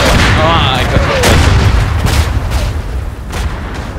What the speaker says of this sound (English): they just put artillery on the gas clouds all the time